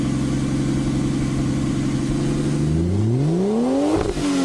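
A heavily muffled Ford Barra inline-six holds a steady low idle, then revs up with a smooth rising pitch and drops back, loud and close with no talking.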